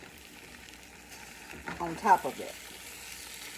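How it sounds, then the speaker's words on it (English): Pepperoni sizzling in a frying pan for a quesadilla, a soft steady crackle and hiss that swells briefly with a burst of spattering, while a person speaks quietly over it. "as you can hear, it's sizzling up here"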